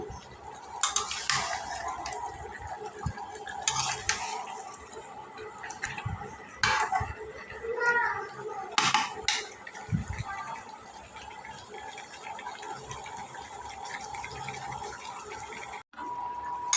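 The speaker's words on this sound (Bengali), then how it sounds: "এই যে আমি মশলা কষিয়ে আমি ভেজে রাখা আলু আর মাংস দিয়ে দিয়েছি এটা ভালোভাবে কষিয়ে" Potatoes and meat stirred with spices in a cooking pot make intermittent scraping and clinking strokes, some louder than others, against a low background hum.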